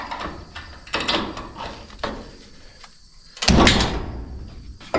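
An old sliding door on a 50-year-old aircraft hangar pole barn rumbles and clatters in loud bursts, with rattling metal, pauses between pushes and a heavy bang near the end, no talk.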